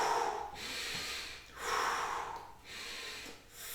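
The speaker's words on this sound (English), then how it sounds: "Keep breathing." Heavy rhythmic breathing during back fitness exercises, close and fairly loud, with about four long breaths rising and falling in a steady pattern and no talking.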